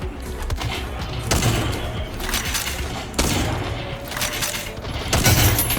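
Gunfire in the online shooter Battle Teams 2, heard as dense bursts of rapid shots in several loud volleys over a steady game background, with no talk.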